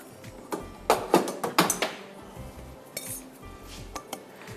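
A pan of water being handled in a home kitchen while a stock cube goes in, giving a cluster of sharp metallic clanks and clinks of cookware, then a few lighter taps spaced out afterward, close and with no talking.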